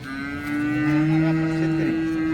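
A cow at the Baramati cattle market lets out one long, loud, close moo that holds steady for about two seconds, with no other sound around it.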